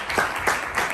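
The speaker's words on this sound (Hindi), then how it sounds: "एक बार उनके लिए जोरदार ताली होनी चाहिए" An audience applauds a guru at a seminar: a short burst of clapping with a few louder pulses, fairly close and filling the moment without speech.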